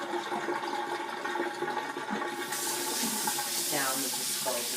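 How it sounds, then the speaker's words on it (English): Water runs off rinsed chicken pieces into a kitchen sink, a steady splashing trickle that turns into a louder rushing flow partway through, heard close and with no talking. "Allow my water to run off."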